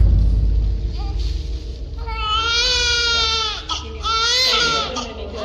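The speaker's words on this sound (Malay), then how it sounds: "ibarat ada bunyi budak menangis," An infant crying as a sound effect in a Malaysian ghost story, starting with small whimpers and then rising into loud, wavering wails close to the listener, with a brief break before the crying resumes.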